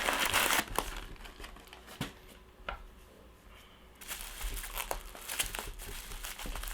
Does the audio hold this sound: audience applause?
no